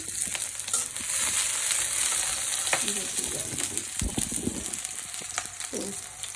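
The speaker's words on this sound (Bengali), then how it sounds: "পেঁয়াজটা ভাজা হয়ে গেছে" Onions fry in hot oil in a wok before red amaranth greens go in, giving a steady, close sizzle and crackle with a few soft stirring scrapes, and no talking.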